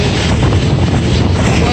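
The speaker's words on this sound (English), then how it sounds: "Whoa, it's windy." Wind blowing hard across the deck of a cruise ship while it is still loading passengers near Alcatraz, a steady loud broadband rush with low rumble throughout, with faint voices beneath it.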